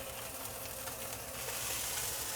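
Steady, bright sizzle of oil heating in a wok for a chicken and mixed vegetable stir fry, close and continuous with no talk.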